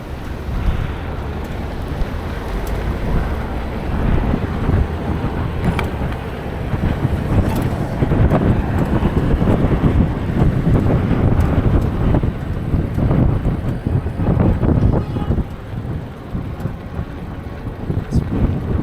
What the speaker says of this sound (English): Pretty windy right here, actually.